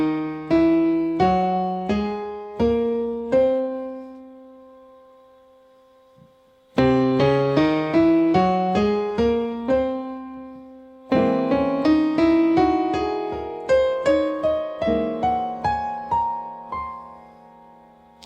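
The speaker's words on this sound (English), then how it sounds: "the scale what we use sounds like this." An altered scale over C7alt is played as melodic note runs and chords on an Akai MPC X. Clean, evenly struck notes come in three phrases, each separated by a decaying sustained tone.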